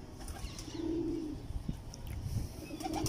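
A pair of teddy pigeons of the Mian Nazeer bloodline coo close by, with soft low cooing phrases and a few faint chirps or wing sounds over quiet background noise.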